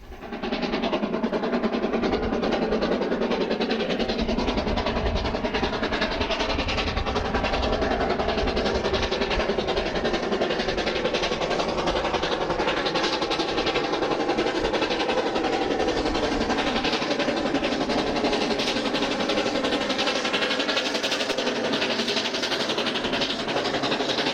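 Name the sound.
train crossing Broken River Viaduct, New Zealand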